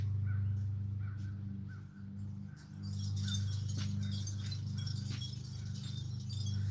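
A pet bird gives a few short, harsh calls over a steady low droning hum, fairly close and clear.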